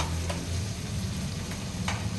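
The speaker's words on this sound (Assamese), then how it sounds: "কিছু সময় এনেদৰে ভাজি থাকিম বিলাহীখিনি" Tomatoes frying with onion, ginger and garlic in a pan, a steady close sizzle running throughout with a few soft scrapes of stirring.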